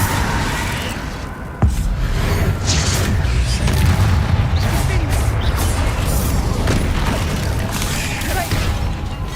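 Spell blasts in a Hogwarts Legacy duel: one sharp crack early on, then a continuous rumble of booming magical impacts, with voices talking over the fight.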